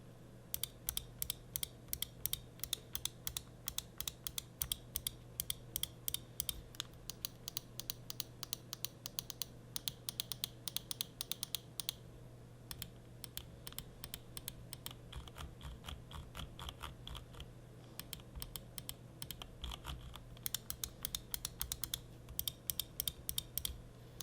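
Switches of a Cooler Master MM720 gaming mouse clicked in rapid, steady bursts, sharp close-up clicks repeating continuously over a faint low hum, with no talking.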